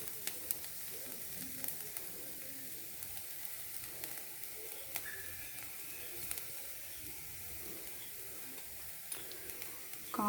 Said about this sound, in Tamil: இப்போ இதில் கோஸ் நல்லா போட்டு வதக்கியாச்சு